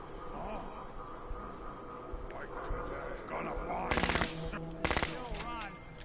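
Bursts of suppressed gunfire in the video game Fallout 4, two sharp, loud shots near the end over a busy, muffled game soundscape, with players talking.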